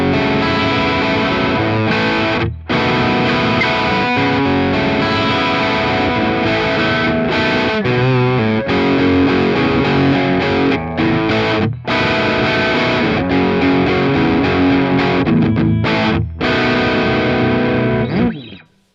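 Electric guitar through a Marshall Valvestate 8100 on its OD1 overdrive channel, playing a loud, sustained rock riff of crunchy distorted chords with a few brief stops, alone without any voice.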